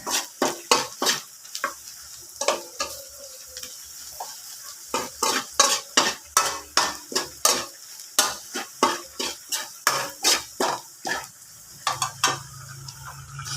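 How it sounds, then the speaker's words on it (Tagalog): A spoon stirs creamy carbonara sauce with butter in a pan, giving repeated sharp scraping and clinking strokes in an uneven rhythm, with a faint sizzle underneath and no voices over it. "Ito kailangan halu-haluin dahil didikit ito."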